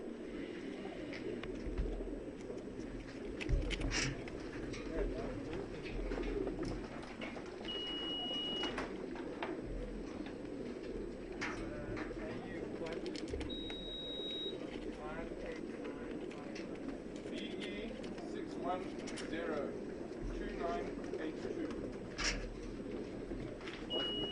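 Racing pigeons cooing in baskets during final race basketing at Victoria Falls, soft repeated coos scattered through a busy background of handling noise and voices.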